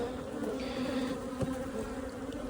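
Honey bees around a multi-queen micro nuc hive make a close, steady buzzing drone, with a few individual bees flying past, and no talk.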